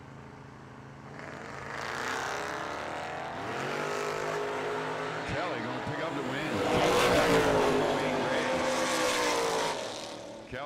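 Drag race cars, among them a Buick, launch and race down the strip with a sustained engine roar that swells and sweeps past, while an announcer talks over it.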